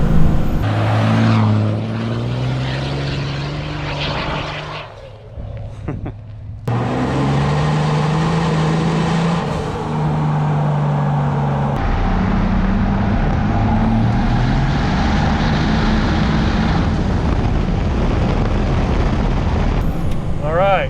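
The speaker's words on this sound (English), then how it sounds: "that's a third gear rolling burnout with a lockup switch" A 1000 HP triple-turbo Cummins diesel truck does a rolling burnout in third gear with the lockup engaged. The engine roars loudly and steadily with turbo whine and tyre noise, dips briefly, then surges again, with someone talking over it.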